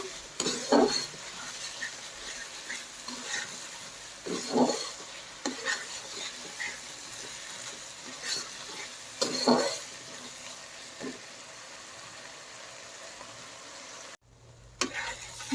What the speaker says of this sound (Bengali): এখন মশলাটা খুব ভালোভাবে কষাবো